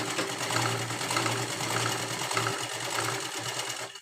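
A sewing machine runs steadily at close range while stitching a firm seam on unlined princess-cut blouse fabric, the whirring hum continuous and even for about four seconds before it stops abruptly.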